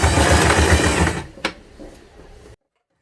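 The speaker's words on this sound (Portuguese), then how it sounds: "eu vou vir aqui na máquina e vou fazer a costura." A sewing machine stitches a case made from a milk carton, a loud rapid mechanical run lasting just over a second, then a single clack and quieter handling before silence.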